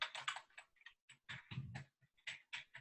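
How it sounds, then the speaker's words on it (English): Quiet keystrokes on a computer keyboard come in uneven clusters of taps and pauses, faint and close, with no talking. "I'm typing."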